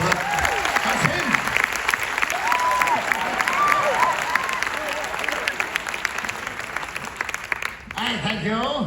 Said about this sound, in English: Giving a big round of applause to my little brother.